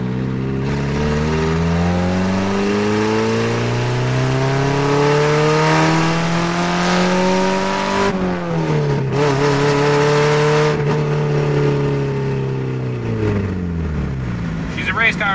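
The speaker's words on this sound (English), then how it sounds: "Never leave your Miata open header, they don't sound good." A Mazda Miata running an open header blares with a loud, raspy drone that climbs steadily in pitch, stutters briefly, then holds and eases off, unbroken for about fifteen seconds.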